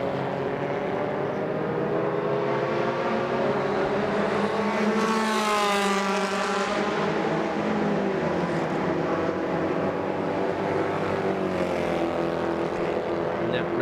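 A Formula 1600 single-seater in free practice at an MRF Challenge round, engine note climbing as the car approaches, peaking in a loud pass-by, then falling away before another car builds in the distance.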